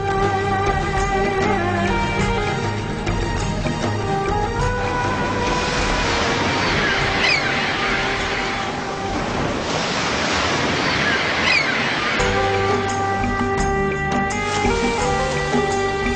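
Sea waves roll onto the shore in a continuous wash, swelling into a louder surge midway, with wind buffeting the microphone and soft tonal music running underneath.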